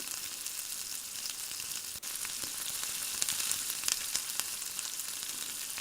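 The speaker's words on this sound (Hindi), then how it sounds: "तो ये देखिए प्याज और लहसुन हल्का सा फ्राई हो चुके हैं" Onion and garlic sizzle and fry in a pan, a continuous bright crackle with occasional pops and a brief stir near the middle.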